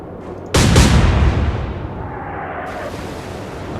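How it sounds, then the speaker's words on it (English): Warship guns fire in a naval combat game, one heavy blast that booms suddenly and rolls off into a long, fading rumble. "And unfortunately at that time 2 guns were able to fire."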